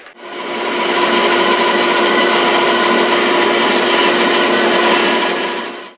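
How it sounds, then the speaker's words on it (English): A bandsaw cuts a curve through wood for a curved-front end table, a steady loud rasping whir that swells in, holds evenly for several seconds and fades out. "this is material here is all going to get cut away on the bandsaw"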